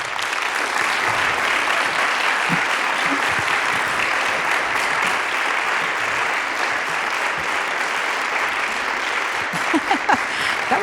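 An audience at Saint Scholastica gives the author Peter Geye a steady, dense round of applause as he is welcomed to the stage, holding loud and even for about ten seconds.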